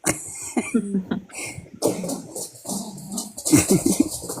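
A dog tussles with a ball nearby, grunting, snuffling and growling playfully in short, uneven bursts.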